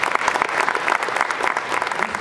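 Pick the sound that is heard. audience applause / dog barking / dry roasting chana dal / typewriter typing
audience applause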